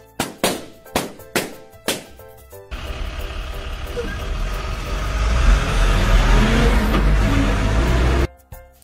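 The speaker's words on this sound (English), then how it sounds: "Tractor trailer." A few percussive hits lead into a tractor trailer's heavy diesel rumble, growing louder as it accelerates nearby, then cutting off abruptly.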